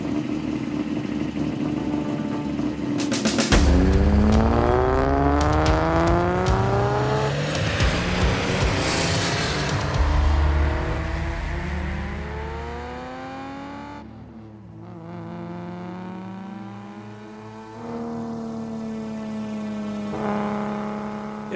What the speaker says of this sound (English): it was great to get behind the wheel of a front-engine, water-cooled Japanese import car with a lot of shared DNA